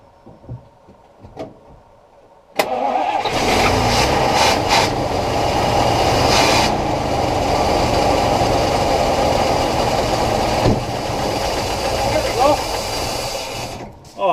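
A straight-eight flathead engine fires up on a cold start after a few quiet clicks, then runs with a steady, slightly uneven idle close by for the rest of the stretch.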